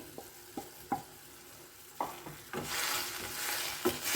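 Medium poha is mixed in a pan in a South Indian breakfast recipe. A spoon scrapes and clinks in scattered strokes over a quiet background, and a soft sizzle builds toward the end.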